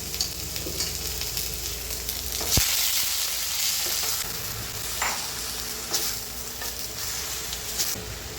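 Garlic sautéing with fenugreek leaves and onions in a pan for a South Indian gravy, a steady close sizzle broken by spatula stirs and scrapes, with one sharp clack near the middle; no one speaks.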